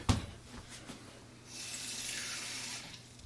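Water running from a tap into a cooking container while making corn with kids: a faint click, then a steady splashing flow that rises into a brighter, louder gush midway and keeps running to the end, with no talking.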